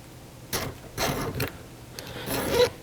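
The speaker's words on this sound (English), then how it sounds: "file the burrs down until it's nice and smooth and even" A hand file rasps burrs off the drive link of a chainsaw chain in short scraping strokes, four close passes with brief pauses between them.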